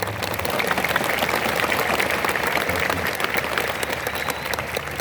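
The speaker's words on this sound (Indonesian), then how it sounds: "ayo tepuk tangan dulu" An audience in the Masjid Raya Annur mosque in Pekanbaru claps during an Islamic New Year 1445 H lecture, a dense, steady burst of applause that fills the hall for about five seconds.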